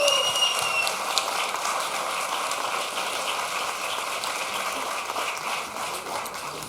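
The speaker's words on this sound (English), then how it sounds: "Give her a big applause." Audience applause for a panel speaker at an arts and resistance festival, a steady broadband patter of clapping that holds evenly throughout and eases slightly toward the end.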